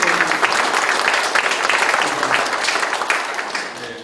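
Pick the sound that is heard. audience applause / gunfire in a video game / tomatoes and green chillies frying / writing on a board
audience applause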